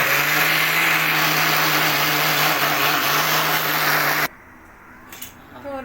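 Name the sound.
mixer grinder grinding coconut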